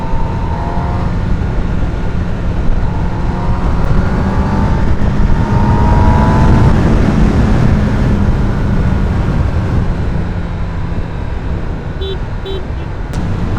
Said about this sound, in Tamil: அந்த ஆக்சுவலாக நான் வந்து இப்போ முறுக்கின ரீசன் வந்து ஸ்பீடு செக் பண்ணுறதுக்காக, அந்த சவுண்ட் கேட்கறதுக்காக.